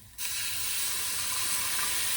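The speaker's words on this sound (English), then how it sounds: "just add a bit of water because it's a bit dry. You're going to see a lot of steam." Water poured onto hot spices in a pan of eggplant curry, bursting into a loud, steady sizzle and hiss of steam that starts abruptly and carries on without a break.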